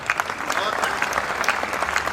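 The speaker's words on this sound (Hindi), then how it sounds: "मैं एक बार चाहता हूं तालियों से मुझे आदेशित करें" Audience applauding at a Hindi comic poetry gathering in Sonipat, Haryana, brisk continuous clapping from a crowd, moderately loud and steady throughout.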